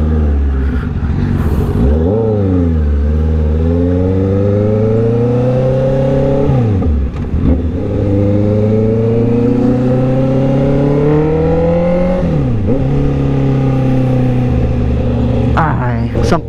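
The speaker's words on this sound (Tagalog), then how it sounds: "syempre mag-motor tayo." A Honda CB650R motorcycle engine drones steadily close up, revving up through rising gear pitches and dropping back between shifts, loud and continuous throughout.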